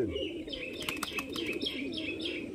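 Pigeons at a village pigeon market coo steadily in overlapping calls, with chirps and a few sharp wing flaps, close and busy with no talking.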